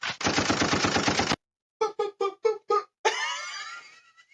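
A long rapid burst of automatic gunfire, then several separate loud shots, then a ringing, echoing tail; loud and close, with no voices.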